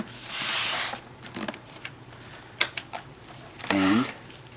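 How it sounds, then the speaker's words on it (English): A zipper runs along a simulated leather case for a Sony AV-3400 Porta Pak video recorder, a short close rasp, with soft handling clicks and rustles around it. "This zips closed"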